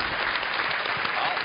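A studio audience claps steadily through a short burst of applause on a Taiwanese television variety show, dense and even from start to finish.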